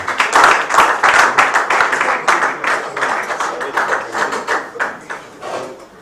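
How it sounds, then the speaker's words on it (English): Crowd of guests clapping at an 82nd birthday celebration and book presentation, dense loud applause that gradually thins and fades over several seconds. "Can we clap for him properly now?"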